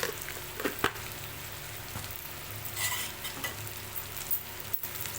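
Sliced onions with salt sizzle and fry steadily in a pan while being stirred, a constant close crackling hiss with occasional scraping clicks.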